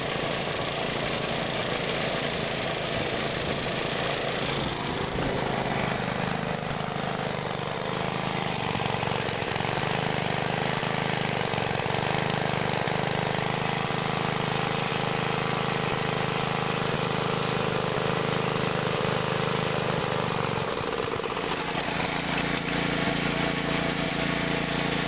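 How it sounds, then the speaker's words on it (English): Vintage belt-driven Clinton and Briggs engine generators of about 1,000 watts running together nearby, a loud steady small-engine drone with a churning low hum that shifts pitch midway and again near the end, no talk. "both my belt-driven generators running"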